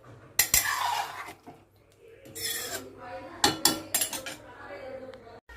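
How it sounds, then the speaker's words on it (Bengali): Vegetable curry of lentil fritters is served from a pot into dishes, with sharp clinks and scrapes of utensils against metal and plates in a few close bursts. "এবার বেড়ে নেব তরকারিটা"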